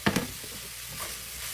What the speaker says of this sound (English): Right about now, I want to add the shallots.